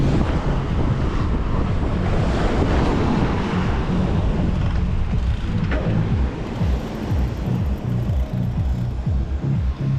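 Steady roar of wind buffeting the microphone over rolling Black Sea surf at Adler, Sochi, on an overcast January day, continuous and loud throughout with no voices.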